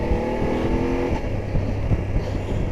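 A BMW 750 GS motorcycle rides down Cheddar Gorge, its engine droning loud and close under heavy wind rush, with the note shifting as the bike moves along.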